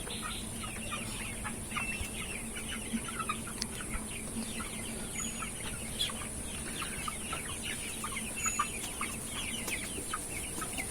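Sonali chickens on a poultry farm clucking softly in a steady scattered chorus, distant and faint over a constant background hum, with no talk.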